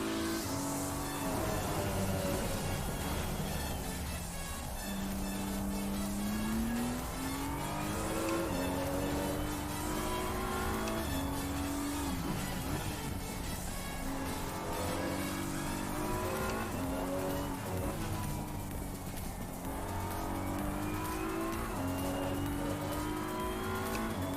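Race car engine in the Assetto Corsa Competizione racing game at Valencia, roaring continuously and loudly with rising revs and repeated gear shifts, plus occasional tire squeal, with no talking.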